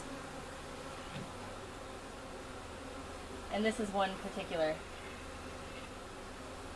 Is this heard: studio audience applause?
no